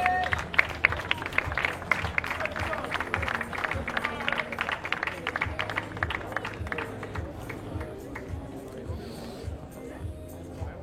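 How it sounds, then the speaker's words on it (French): Audience at a padel match applauding, a dense burst of clapping that thins out over several seconds, with crowd murmur and a commentator speaking over it. "on peut refaire un applaudissement pour nos Réunionnais."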